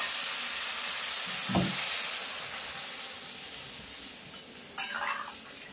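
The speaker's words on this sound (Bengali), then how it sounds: "তো এখন আমি ঝোলের জন্য জল দিয়ে দেবো।" Water poured into a pan of sizzling masala and raw mango for an aam shol fish curry, a steady hiss of frying with a brief splash and a later burst of steam near the end, close and moderately loud.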